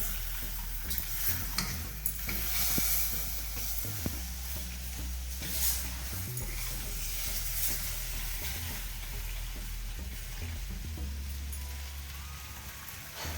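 Peanuts roasting and stirring in a pan, a soft crackling sizzle with occasional scraping and low rumbling knocks, fairly quiet and continuous.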